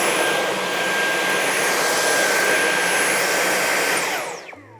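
Two Dyson cordless stick vacuums, a V8 and a V11, roar steadily at close range with a loud, even whooshing drone that holds for several seconds before cutting off near the end.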